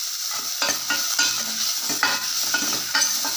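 Onion and turmeric sautéing in oil for rasam, with a steady close sizzle broken by regular scraping stirs of a spoon in the pan.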